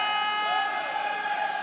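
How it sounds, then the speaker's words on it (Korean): The technical delegate's buzzer at a Korean handball league match sounds as a loud, sustained electronic tone held steadily across the whole moment. "기술 위원이 다시 한번 부저를 눌렀습니다."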